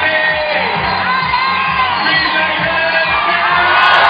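A large crowd at a climbing World Cup men's boulder final in Vienna roars and shouts continuously and loudly, with whoops rising through the noise, while a commentator talks over it.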